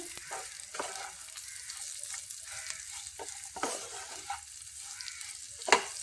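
Chilli and coriander powder sizzle as they are stirred and fried in a pan, with steady crackling and repeated scraping strokes of the spoon, one sharp clink near the end, close and moderately loud with no talking.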